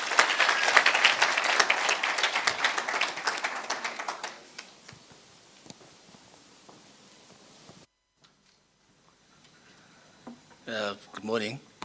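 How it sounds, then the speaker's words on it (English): An audience claps at a City of Johannesburg skills development graduation ceremony, with dense, loud applause for about four seconds that thins out and fades to quiet, followed later by a brief voice. "A round of applause"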